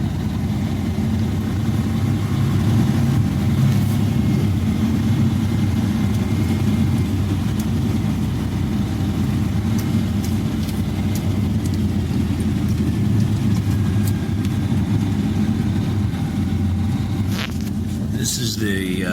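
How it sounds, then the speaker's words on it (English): A loader's engine runs continuously at a drilling rig, a dense, low mechanical rumble with steady machinery noise around it, close and loud, with a few sharp clanks near the end. "Loader man working again."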